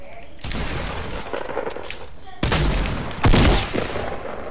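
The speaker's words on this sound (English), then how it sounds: "Why does that dude keep shooting?" Video game gunfire in squad gameplay, bursts of loud, close shots in rapid runs with a sharp heavier blast near the end, while players talk over it.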